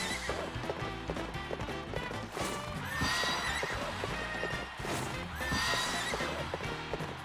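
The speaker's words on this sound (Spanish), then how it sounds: "Ahí está, el galope." A galloping horse in the Mario & Sonic at the Rio 2016 Olympic Games video game gives rapid, rhythmic clip-clop hoofbeats with neighs and whinnies, loud and continuous over dense game music.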